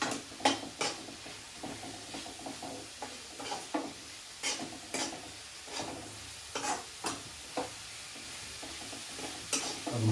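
Masala powder sautéed in a pan for kurma, with steady soft sizzling and repeated scrapes and clinks of a spoon stirring against the pan, close and moderately quiet.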